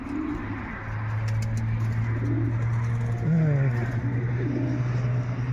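Domestic pigeons cooing close by, repeated soft low coos over a steady background hum, with a louder rolling coo near the middle.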